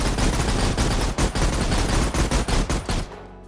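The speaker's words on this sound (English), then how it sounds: "So here, I'm just gonna empty a magazine." Rapid gunfire from a gun being emptied of its whole magazine in the VR video game Project TX, a loud dense burst of shots lasting about three seconds before stopping.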